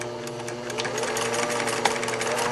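A sewing machine stitching a strip of ribbing into a tube for a kids' beach towel pullover, a close, continuous motor whir with rapid needle chatter, steady and alone.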